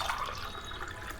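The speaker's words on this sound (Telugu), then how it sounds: "ఇదిగోండి గ్లాసున్నర వాటర్ పోస్తున్నానండి" Water poured from a glass into a pot of raw rice while making tomato rice in a home kitchen, a soft steady splashing trickle lasting about a second, close and fairly quiet.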